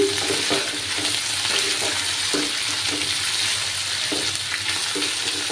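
Tangra fish frying in a pan, a loud continuous sizzle with recurring scraping stirs, close up with no talking.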